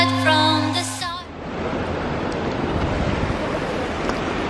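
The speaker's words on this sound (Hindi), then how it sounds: "नदी की जो आवाज आ रही है," River at Rishikesh in June, a broad steady rush of flowing water that takes over after a short burst of music at the start and continues alone.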